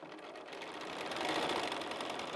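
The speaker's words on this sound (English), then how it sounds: "I put my foot on the pedal and go a bit faster." Sewing machine quilting a cushion, running steadily and speeding up as the pedal is pressed, a continuous close whirring stitch that grows louder through the clip.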